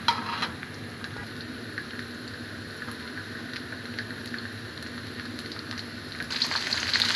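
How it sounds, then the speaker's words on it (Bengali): Chopped onion and garlic fry in oil in a pan that was just used to fry lentil dumplings, giving a steady, close crackling sizzle that carries on without a break and swells a little louder near the end. No one speaks. "এখন আমি ওই একই প্যানে ভেজে রাখা বড়ির তেলে আমি পেঁয়াজ আর রসুন কুচি দিয়ে একটু লাল লাল করে ভেজে নিব।"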